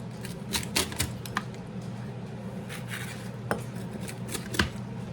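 A knife cuts through cooked food on a board in a home kitchen, sharp clicks and taps coming in irregular clusters, close and fairly quiet.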